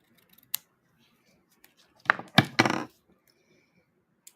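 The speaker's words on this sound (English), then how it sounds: "Ribbon scissors." A few crisp snips of ribbon scissors cutting ribbon, one short snip followed by a quick cluster of cuts, close and clear with quiet pauses between.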